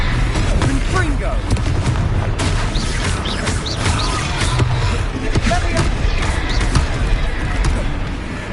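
A Confringo blasting spell fired during a troll fight in Hogwarts Legacy, heard as booming magical blasts over a dense, continuous battle din with voices and crashes.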